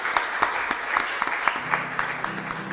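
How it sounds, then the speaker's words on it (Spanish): A congregation applauds at the end of Mass in a parish church, moderate clapping with a few distinct louder claps, while a low sung or hummed tone begins underneath partway through. "Un fuerte aplauso para nuestra comunidad."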